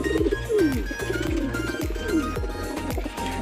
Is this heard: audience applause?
no